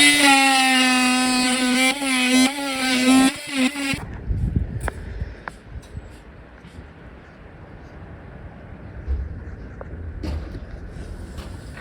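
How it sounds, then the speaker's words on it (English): Oscillating multi-tool cutting timber during a cold flat-roof rebuild gives a loud, steady high buzz with strong harmonics for about four seconds, then stops abruptly, leaving quieter knocks and handling noises. "These days we use a multi-tool, cut from"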